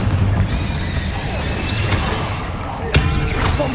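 Bombarda and Confringo spell explosions in the video game Hogwarts Legacy, a dense continuous roar of blasts and crackling impacts with a few sharper pops standing out above the loud, sustained rumble.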